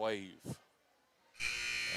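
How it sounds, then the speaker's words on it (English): Someone speaks briefly, then after a quiet pause a harsh electronic gym scoreboard buzzer blares and holds steadily at a girls' high school basketball game. "there comes your buzzer"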